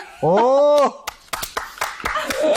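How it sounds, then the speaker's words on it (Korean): A person claps hands in a short run of sharp, uneven claps right after a brief sung or drawn-out vocal phrase, with voices nearby. "제가 이렇게 박수치기가 처음인 것 같아요."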